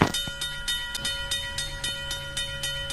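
A train rolls past close by, with steady rhythmic clickety-clack from the wheels on the rail joints and a constant tonal hum, loud throughout.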